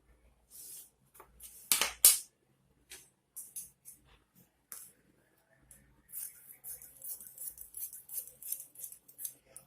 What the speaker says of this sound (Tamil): 20 இன்ச் மார்க் பண்ணி ஸ்ட்ரைட் கோடு போட்டு இதை கட் பண்ணி எடுத்துக்கிறோம்